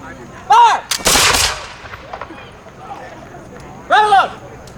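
Two loud musket volleys crack out at an eighteenth-century battle reenactment, the second about three seconds after the first, with shouted commands and crowd noise in between.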